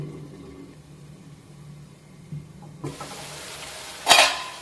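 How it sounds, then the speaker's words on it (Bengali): Fried puti fish with carambola slid into a bubbling gravy in a pan, starting with a quiet simmer, then a sudden brighter sizzle as the fish goes in and a sharp metallic clatter near the end. "এখানে আমার গ্রেভিটা ফুটে উঠেছে, এবার এর মধ্যে এই ভেজে রাখা মাছগুলো দিয়ে দিচ্ছি।"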